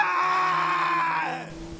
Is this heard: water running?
no